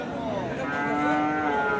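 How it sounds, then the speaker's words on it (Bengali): Bony dairy cows at a cattle market, one giving a sustained, clear moo close by, heard alone without talk. "এই হাড্ডিসার দুইটা গাভী গরু"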